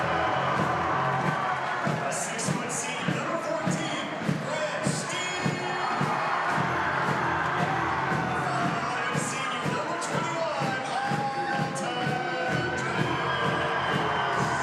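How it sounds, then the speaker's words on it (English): Crowd cheering and shouting in a high school basketball gym at a Camdenton at Osage game, a dense steady roar with scattered whoops and thuds throughout, under background talk. "Good crowd here tonight, too."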